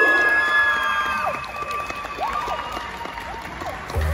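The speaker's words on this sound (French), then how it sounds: "Et bien sûr, n'oublions pas les applaudissements finaux." Crowd applause and cheering closing a dance performance at a taekwondo competition event, a steady wash of clapping with whoops and shouts rising over it, near and fairly loud for about four seconds.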